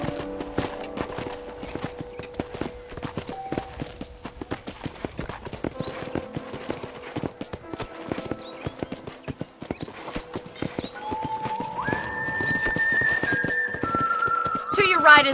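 Horse hooves clip-clop at a steady walking rhythm in the Red Dead Redemption video game, close and continuous, with a voice talking over them and a whistle-like tone near the end.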